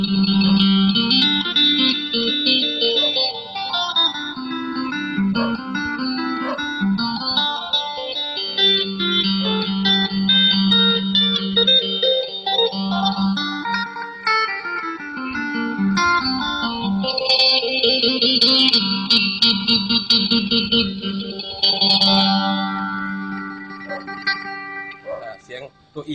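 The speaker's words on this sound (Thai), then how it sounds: "เสียงตัวดีก็จะเป็นเสียงเฟเซอร์นะครับ" An electric guitar plays through a phaser, its tone sweeping up and down in slow, repeating whooshing cycles while chords ring on.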